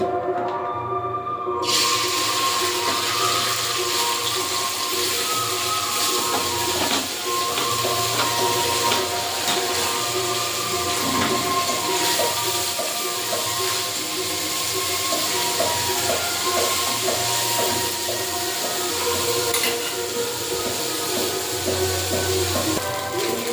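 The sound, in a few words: chuna fish frying in oil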